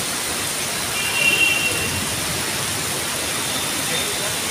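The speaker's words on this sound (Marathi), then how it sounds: "बघू शकता इकडे पाऊस काय जोरात आहे" Heavy rain hisses steadily throughout, a constant wash of noise with a brief louder swell early on.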